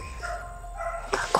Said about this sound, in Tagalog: Yuto, may aso. May aso.